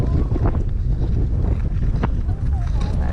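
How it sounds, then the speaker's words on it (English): Wind gusts across a frozen lake in Canada where people are ice skating, buffeting the microphone in a loud, continuous rush while voices talk over it. "It's windy"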